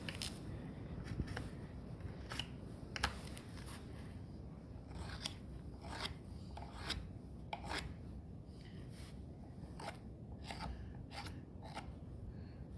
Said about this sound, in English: slightly, patiently scrape it. I'm gonna do it like this, just to get the excess stuff.